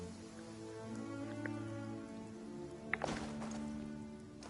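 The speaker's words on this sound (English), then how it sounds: "Taking a stroll in the middle of a downpour certainly rouses the spirit." A steady video game downpour hisses as a broad, even rain wash. A faint tonal music bed sits underneath, and a couple of brief clicks cut through near the end, with no talking.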